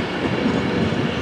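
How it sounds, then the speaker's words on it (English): Flying Scotsman steam locomotive at Crewe station gives a continuous, loud rumble of rolling train noise with a low, steady mechanical roar and no voices. "Train over there is no ordinary steam train."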